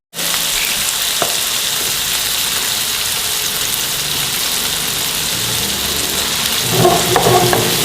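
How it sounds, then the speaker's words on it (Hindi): Leftover boiled rice stir-frying with soy sauce and chili garlic sauce in a hot pan, a loud, steady, dense sizzle that runs unbroken from start to finish, with a few scrapes of stirring near the end. "इसको मिक्स करेंगे"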